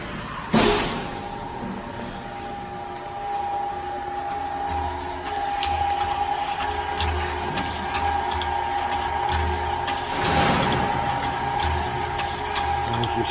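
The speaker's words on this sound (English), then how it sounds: "There's your scraper agitator going nice and smooth." A 100-gallon Groen CapKold cooker-cooler kettle runs with its INA scraper agitator turning smoothly, a steady mechanical hum with a faint tone and a few soft knocks.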